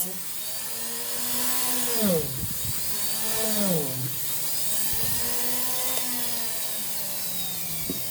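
A power drill drilling holes in wood whines steadily, its pitch dipping twice as it bites into the wood, then recovering; loud and close, with no talking.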